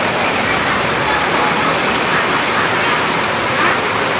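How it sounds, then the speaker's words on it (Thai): Heavy rain pours down in a steady, dense roar of water with no letup, loud and close. "มารับชมบรรยากาศฝนตกค่ะ ตกเรื่อยๆเลยนะเนี่ย"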